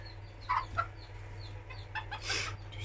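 A broody hen sitting on eggs clucks softly in short, scattered calls, close by over a low steady background hum.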